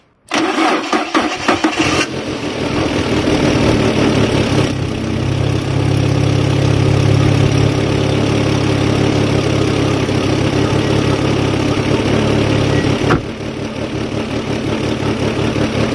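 A 1990s Fiat car engine cranks and starts, then settles into a loud, close, slightly shaky idle with an uneven rumble, suspected of gearbox friction; the engine briefly dips before steadying again.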